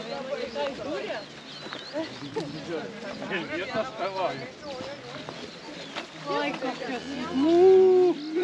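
Cows mooing on a countryside farm outing, the calls rising over continuous nearby talk and a muddy, busy outdoor scene, with one drawn-out moo standing out near the end.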